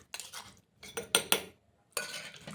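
Tomato chutney being mixed while it is ground by hand, village style: a few short scraping, clinking strokes of a utensil against a bowl, with brief pauses between them, close and fairly quiet.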